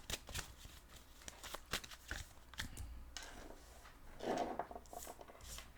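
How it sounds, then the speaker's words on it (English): Tarot cards laid out on a table, a run of quiet, close card snaps and slides at an uneven pace, faint and with no voice over them. "I'm gonna lay out all the cards here."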